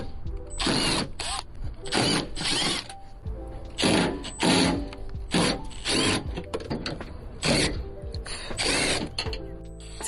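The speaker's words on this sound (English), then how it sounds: "We will be removing 5 screws to disengage the fender, allowing access to the grommet." A power tool spins out 10 mm fender screws on a second-generation Toyota Tundra, giving repeated bursts of whirring ratchet-like buzzing, close and loud, separated by short pauses.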